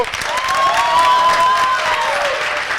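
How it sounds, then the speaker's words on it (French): Studio audience on a French-language morning show applauds and cheers, a loud dense wash of clapping with whistles and shouts sustained throughout. "On va vous acclamer très fort, s'il vous plaît."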